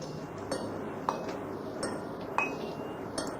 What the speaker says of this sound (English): the notes made by the hammers against the anvil seemed to vary with the size of the hammer